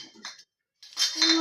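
A small child handles a metal spoon among tea dishes, saucers and a plate, producing a couple of bright clinks and rattles after a brief silence, close by and moderately loud.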